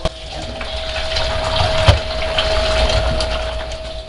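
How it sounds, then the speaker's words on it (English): Hot water running from a tap into a kitchen bowl with soap, a steady loud gushing splash with a faint hum underneath and one brief clunk midway, no voices. "We'll get some hot water and some soap in it so it won't stain my bowl."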